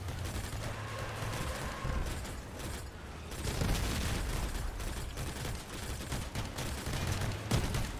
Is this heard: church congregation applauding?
no